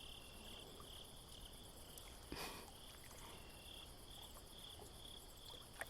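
Crickets chirp at night in a continuous, even, high trill, quiet and somewhat distant, with a faint brief rustle near the middle.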